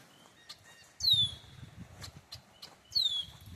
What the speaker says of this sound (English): Blackbirds are making their noise.